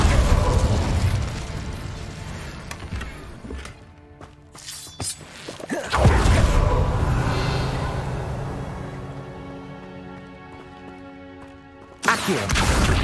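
A spell cast in Hogwarts Legacy sends out loud bursts of whooshing fire and crackling blasts. There is a sharp onset, a swell near the middle and a sudden burst again at the end, with ringing, tonal game effects between them.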